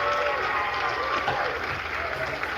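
Applause from a large comedy audience of about 1,400 people, a steady dense wash of clapping with some crowd noise mixed in, sustained and even throughout.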